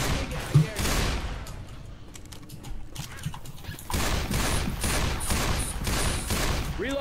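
Rapid bursts of gunfire ring out in the zombie shooter Left 4 Dead 2 during a rock concert level, with repeated loud volleys and clattering shots layered over game sounds.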